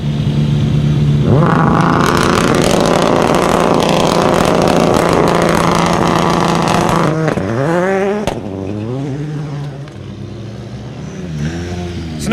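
A rally car launches from the start of a forest stage at the Border Counties rally, Hyndlee: a loud, close engine roar holding high revs for several seconds, then sharp rising and falling gear-change sweeps as it pulls away.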